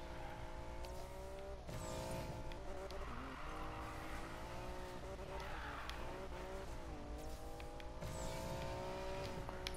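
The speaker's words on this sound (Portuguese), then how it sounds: "Olha lá como é que esse carro drifta" A car drifting in the Need for Speed Payback racing game, with a steady engine drone and long tire squeals that rise and fall, loud and continuous.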